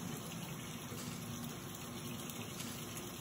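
Water runs steadily into a bathtub as a constant soft gushing rush, even in level and fairly quiet, with no voices over it.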